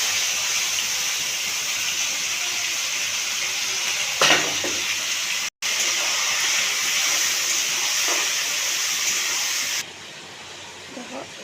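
Yogurt-marinated meat frying in hot oil with chopped onion, dried red chillies and bay leaves gives a loud, steady sizzle with a few stirring scrapes. It breaks off abruptly for a moment, then resumes and ends slightly quieter.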